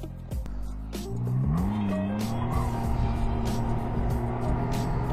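A Can-Am Ryker three-wheeler, 600 or 900 model, revs up under full throttle, its engine note rising and holding steady, with a faint tire scrub as the rider tries to push it into a slide.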